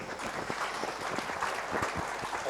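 Brief burst of audience applause in a conference session hall, steady dense clapping throughout.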